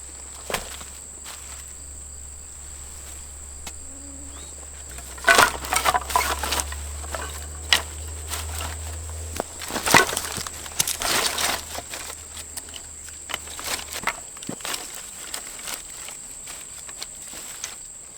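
Red and white pine needles are laid around an outdoor fire lay, giving a run of close, dry crunching and crinkling handling sounds with scattered louder rustles and a steady high insect drone behind.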